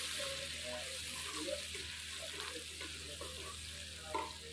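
Chopped onion sizzling in a pan for a fried cabbage and egg dish, with soft stirring scrapes over a steady fry hiss and a louder scrape near the end.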